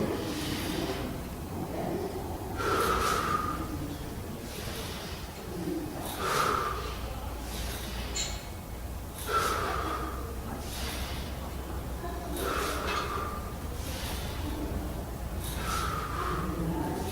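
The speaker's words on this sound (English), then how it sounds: "you're exhaling in the upward phase, that is when you're pushing down the weight through your mouth, inhaling through your nose" Someone on a tricep dip machine breathes in a steady cycle, sharp exhales and nasal inhales recurring about every three seconds, fairly close with no talk over them.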